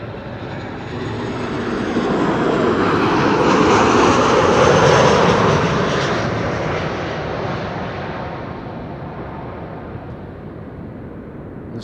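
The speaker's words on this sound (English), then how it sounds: "This is KLM flight 1002 Arriving from London Heathrow" A KLM Boeing 737-900 from London Heathrow lands at Amsterdam Schiphol, its jet roar swelling in to a loud peak midway, then slowly easing off as it passes.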